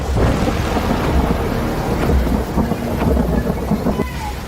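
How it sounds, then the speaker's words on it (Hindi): Heavy monsoon rain pours steadily with rumbling thunder rolling through it, a dense, loud wash of downpour during flooding in Kathua, Jammu and Kashmir, India, with no clear voices. "जम्मू कश्मीर के कठुआ में तेज बारिश कहर बनकर बरस रही है"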